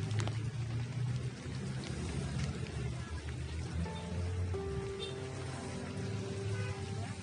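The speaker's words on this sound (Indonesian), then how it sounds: "Kalau sekarang kan hujan tuh," Steady rain falls heavily and continuously, a dense hiss of drops on surfaces filling the whole clip, with faint background sounds and no clear talk.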